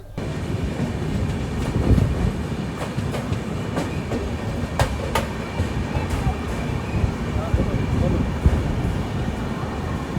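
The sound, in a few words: train arriving at Jharsuguda Junction railway station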